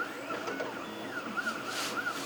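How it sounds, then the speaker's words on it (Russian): A 3D printer prints a plastic strip part, its stepper motors whirring in faint rising and falling tones, repeating rhythmically and heard alone. "Ну и принтер печатает."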